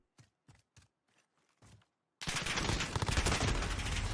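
Rapid, dense burst of gunfire from the Ram gun in a 1v1 shooter match, loud and continuous for about two seconds after several short, sharp clicks or steps.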